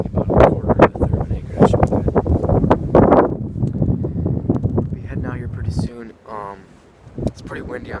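Gusty wind buffets the microphone while a person talks steadily over it during a late-December bow hunt, the blustery rumble continuing into brief pauses near the end.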